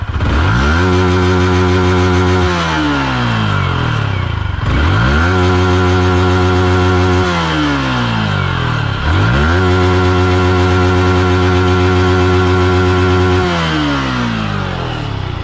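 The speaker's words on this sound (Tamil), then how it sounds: "MT-15 அண்ட் லிக்யூம் ஆயிலோட எக்ஸாஸ்ட் நோட் இதுதான் பார்த்துங்க" A Yamaha MT-15 motorcycle running Liqui Moly engine oil is revved hard about three times, each loud close blip climbing then falling back toward idle, with no voices.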